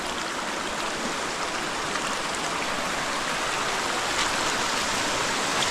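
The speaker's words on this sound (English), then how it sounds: "you're pretty much walking right through the creek." A narrow creek runs over rocks in a steady, close, hissing and babbling flow with a continuous rush and no pauses. No voices are heard.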